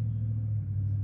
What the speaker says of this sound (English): It's a truck.